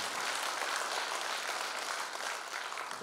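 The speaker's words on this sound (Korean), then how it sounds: "한번 큰 박수 부탁드리겠습니다" Attendees at a Korean lawmaker's constituency report meeting give a round of applause for introduced local community leaders, a dense, even wash of clapping heard from a distance for a few seconds.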